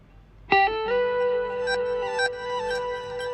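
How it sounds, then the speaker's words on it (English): Clean guitar layer tones for a sound-design transition, processed with effects. A bright chord strikes suddenly, then rings and sustains with shimmering overtones and a few added accents, loud and alone. "let's listen to these guitar tones here."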